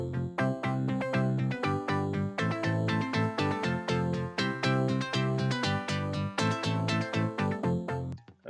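Chords built from a virtual bass guitar play a continuous, loud stream of rhythmic stabs with rich harmonics, steady and uninterrupted throughout, with no voices.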